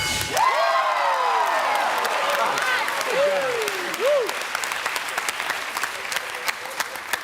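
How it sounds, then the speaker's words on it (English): Game show studio audience breaking into loud sustained applause with cheers and whoops, clapping continuing throughout. "You can clap all you want."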